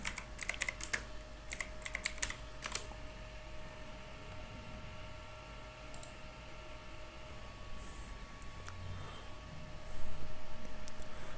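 Computer keyboard typing at a PC setup, with quick bursts of clicky keystrokes in the first few seconds, then scattered single taps over a quiet background hum, close by and with no speech.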